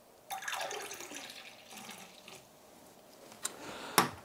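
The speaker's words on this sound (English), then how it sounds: "I'm going to start recording and I'm going to just pour this beer in from above." Beer is poured into a glass from above, giving a splashing, fizzing liquid rush that starts abruptly and trails off into softer foaming and dripping, with a couple of sharp clinks near the end; heard up close and fairly quiet.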